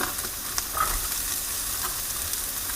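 Chicken pieces frying in a hot pan for fried rice, giving a steady, close sizzle throughout with a few faint stirring scrapes and no talking.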